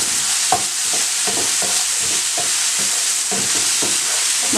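Spices being stirred into masoor dal cooking in a pan: a steady sizzle and frying hiss with repeated spoon scrapes and stirring knocks, close and even, with no talking.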